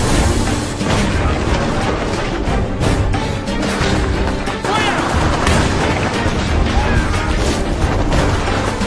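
A loud, dense World War II battle scene of German heavy bombardment against a Soviet-held building: continuous rumbling booms, shelling and bursts of gunfire packed together with no pause.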